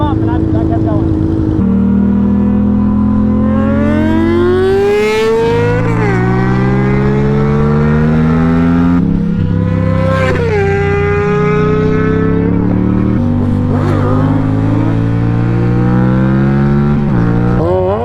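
Sport motorcycles, a Suzuki GSX-S 750 and a Honda CBR 600, race close and loud, engines climbing through repeated revving gear pulls with brief dips between shifts, a continuous high-pitched whine throughout.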